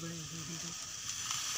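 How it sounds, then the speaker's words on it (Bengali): Chicken chowmein with black soy sauce frying in a pan, a loud steady sizzle close up, with a few short tonal sounds at the start. "তারপরে এর সঙ্গে আমরা অ্যাড করে দেব ব্ল্যাক সয়া সসটা।"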